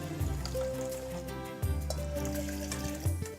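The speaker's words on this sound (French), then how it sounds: "je vais peser maintenant 100 g de bouillon de légumes" Vegetable broth poured into a blender over cream, a soft liquid trickle and splash with a few brief surges, quiet and close against faint background music.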